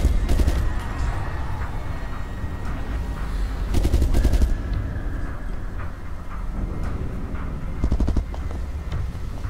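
Rapid bursts of gunfire crackle over a loud, rumbling action-movie soundtrack from a Resident Evil film, with several volleys of shots spread across the scene.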